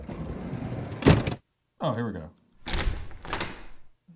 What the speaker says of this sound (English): Ooh, Minecraft door sound.